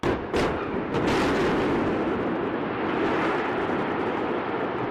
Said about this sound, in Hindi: बॉयलर में विस्फोटक लगाकर धमाका किया गया